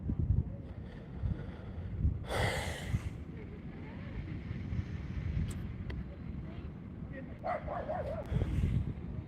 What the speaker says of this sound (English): There's a dog over there.